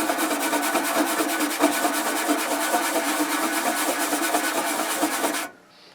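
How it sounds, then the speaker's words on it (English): A small brush scrubs a part of a Kenwood KT-57 tuner in fast, regular back-and-forth strokes, close and fairly loud, with no talk, then stops abruptly near the end. "Something to scrub with. Like this, a little brush."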